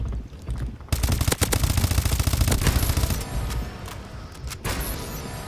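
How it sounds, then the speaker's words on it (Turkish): A Call of Duty Advanced Warfare firefight: dense, continuous rapid gunfire crackles loudly, with overlapping weapons and brief pauses in the shooting. "Çatışma var ama göremiyorum."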